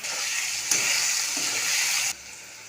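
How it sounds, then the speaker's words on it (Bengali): Potato pieces coated with salt and turmeric sizzle and crackle steadily in hot oil close up, a bright continuous frying hiss with a louder surge partway through that cuts off abruptly near the end. "আলুগুলি লাল হয়ে ভাজা হয়ে গেছে।"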